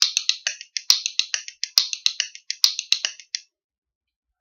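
Rapid continuous clacking of rhythm bones in steady triplet patterns, bright and close, with occasional accented sharper strikes before stopping.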